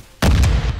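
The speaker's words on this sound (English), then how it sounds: "I hit him with the grenade." A grenade explodes in the video game Call of Duty Modern Warfare II: one sudden, loud, deep boom that rings on briefly and then fades.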